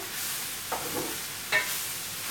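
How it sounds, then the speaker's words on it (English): Squash and beef sizzle steadily in a hot skillet, while a utensil scrapes through the pan in two or three brief stirring strokes. "So I'm going to stir around this pan."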